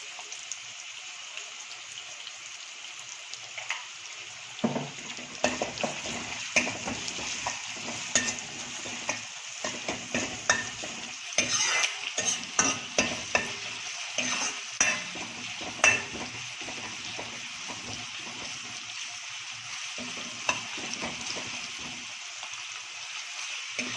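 Onions frying in a pan with a pinch of salt, a steady bright sizzle broken by repeated scraping strokes of a spoon stirring them, close and continuous with no talk.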